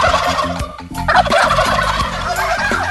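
A loud chorus of turkeys gobbling together on a farm flock of hens and toms, overlapping rapid warbling calls from many birds nearby.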